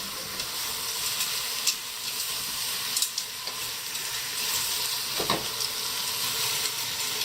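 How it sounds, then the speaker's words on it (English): Crabs and shrimps for a monkfish stew are stir-fried in a pan over gas at maximum, a loud continuous sizzle dotted with light clicks and scrapes from stirring, with no talking. "And now I stir fry this."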